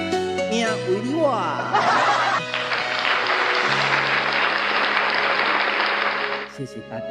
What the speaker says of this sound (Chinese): 谢谢大家的拍拍手